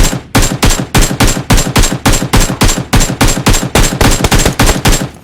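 Rapid automatic gunfire in PUBG Mobile, loud and close, fired in a steady run of short repeated bursts with no break across the whole stretch.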